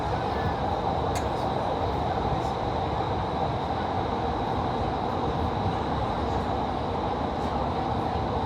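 Steady rumbling hum of a metro train heard from inside a carriage in Qatar, heading to a mall, with continuous low running noise and occasional faint clicks and squeaks over the full stretch, no talking.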